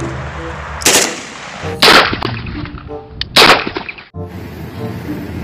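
An AK-47 fires in a dinosaur battle video game, with three loud, sharp shots spaced about a second apart, each followed by a short ringing tail over a low background hum.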